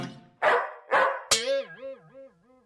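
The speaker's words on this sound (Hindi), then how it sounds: "अरे यह कुत्ता कहां से आ गया?" A hungry, thirsty dog in a Hindi animated comic story gives three sharp barks, then a drawn-out, wavering whimper. The dog is close and no one speaks.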